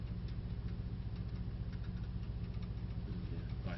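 A Mercedes C63s idles with a steady, low, even rumble that holds throughout, heard from inside the car and playing partly through the speakers as augmented engine sound.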